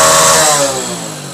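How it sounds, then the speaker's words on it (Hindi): A motorcycle engine that has just been soaked with water runs steadily close by, a loud buzzing idle with a slight falling-off in revs, nobody speaking. "बाइक हमारा देखिए प्रॉपर स्टार्ट है"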